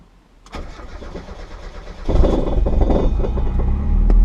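Mazda MX-5 engine starting after a coil-on-plug kit install: a short starter crank begins about half a second in, and the engine catches near two seconds into a louder, steady idle rumble.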